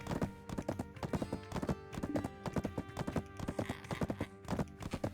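Horse hooves clip-clop in a video game, a fast, steady rhythm of close, crisp hoof strikes running throughout, with faint game background sound behind them and no talking.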